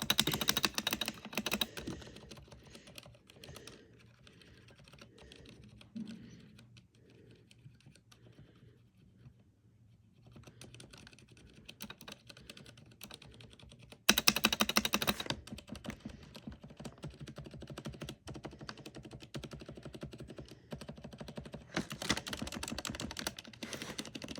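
Keys clatter on a quiet computer keyboard fitted with a bracket that makes it sound clunky, in irregular bursts of taps that fade to a near-silent stretch mid-way before louder, denser typing resumes.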